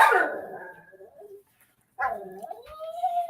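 A dog barks and yips nearby, a short loud bark that trails into a whine, then after a brief pause another bark and a rising whimper, with a person talking softly in the background.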